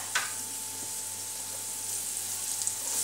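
Finely chopped green chilies sizzle in a pan for sabudana khichdi, a soft steady frying hiss with a few faint crackles and no talking.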